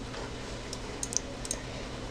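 Faint, sparse keystrokes on a computer keyboard, a few light clicks clustered close together, sit low beneath a steady room hiss.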